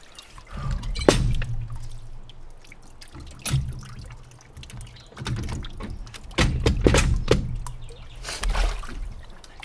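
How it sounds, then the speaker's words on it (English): Water dripping and trickling from a soaked sleeve after a plunge into a dunk tank, with irregular close splashes and dribbles rising and falling in loudness. "There's water coming out of my sleeve."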